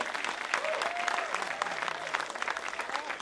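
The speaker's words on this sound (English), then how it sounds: "Let's give it another round of applause for Standalone Film Festival." A film festival audience applauds in a continuous, moderately loud wash of clapping, with faint voices or cheers briefly rising within the crowd noise.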